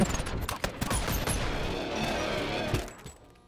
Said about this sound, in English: I'm gonna try the gun that does more damage but has fewer rounds.